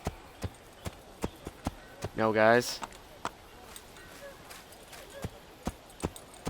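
Horse hooves clip-clop in Assassin's Creed on Xbox 360, a steady, evenly spaced trot of sharp, fairly faint hoof strikes, with someone briefly talking partway through.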